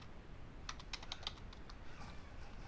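A short burst of keystrokes on a computer keyboard while entering a command, roughly eight quick clicks clustered together, fairly faint and close, over a low steady room hum.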